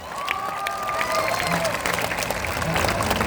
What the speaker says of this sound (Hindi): इनके लिए ताली बजाइए जोर से